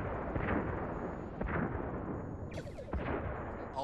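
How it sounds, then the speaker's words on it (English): Photon torpedoes fire at enemy warbirds in a TV starship simulation, heard as a series of loud, booming blasts about a second apart, with a sharper, hissing discharge near the end. "Fire on all enemy ships. 1 photon each should do."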